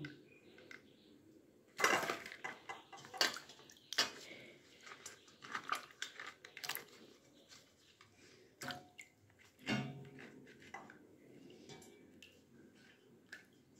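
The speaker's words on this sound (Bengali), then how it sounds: "এবার আমি সিমটাকে খুব ভালো করে ধুয়ে নিচ্ছি।" Flat beans are washed by hand in water, making intermittent close splashes, swishes and drips with quiet pauses in between. The bursts are irregular and fairly soft.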